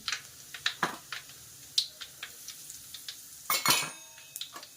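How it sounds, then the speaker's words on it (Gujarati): Light clinks of a spoon against a pan with faint spattering bursts of mustard and cumin seeds hitting hot oil, scattered and close, no voices. "તો રાઈ અને જીરું છે એ નાખી દઈશું વઘારમાં"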